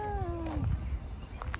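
Cats meowing and squabbling in a fight: a long, drawn-out yowl bending downward over the first half second, then scuffling and a few short, sharper cries, close and fairly loud.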